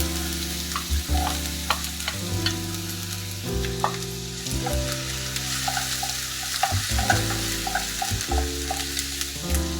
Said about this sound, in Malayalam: കുറച്ച് വെളിച്ചെണ്ണ ഒഴിച്ചു. അതിലേക്ക് വെളുത്തുള്ളി, ഇഞ്ചി ചെറുതായി അരിഞ്ഞത് ഇടുകയാണ്.